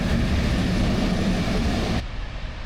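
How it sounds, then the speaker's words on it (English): A leaf-busting railhead treatment train passes through a station platform on the Esk Valley Line, making a loud, steady, broadband rumble and roar that continues for about two seconds and then eases as it moves away. "as I step out onto the platform, I'm joined by a seasonal visitor as a leaf-busting train comes through"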